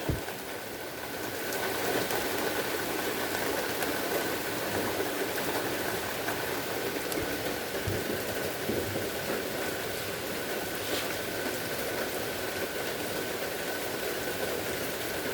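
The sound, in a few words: rain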